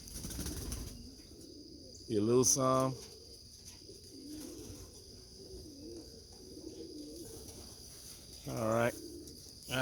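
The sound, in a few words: racing pigeons cooing and flapping at the loft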